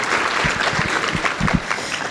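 Audience applause at a professional engineering society talk, a brief burst of scattered clapping from a room of listeners with individual claps audible close by.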